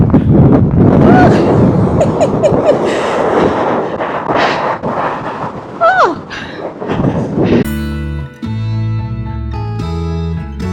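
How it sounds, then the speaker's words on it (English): Strong wind on a Dartmoor hilltop roars and buffets the microphone in a loud, steady broadband rush for most of the clip, then gives way to music near the end. "You can't even stand because the wind is so strong."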